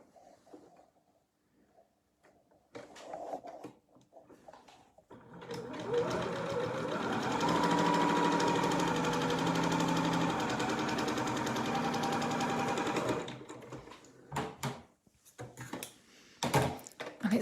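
A sewing machine stitches a fabric mat in one long steady run of rapid whirring for about eight seconds, framed by quiet handling clicks and fabric shuffling before and after.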